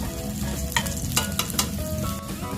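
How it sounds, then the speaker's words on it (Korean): Whitebait (silchi) and garlic stir-fry in a hot pan, giving a steady close sizzle with scattered scraping clicks from stirring and no talk. "살짝 이렇게 볶아주세요"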